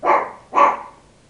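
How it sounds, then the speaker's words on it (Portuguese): A female dog barks twice in quick succession, nearby and fairly loud, then falls quiet. "a cachorra tá latindo aqui"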